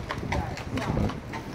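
Horse hooves clip-clopping on a city street in Philadelphia, a quick run of hoofbeats passing close and fairly loud over a busy urban background.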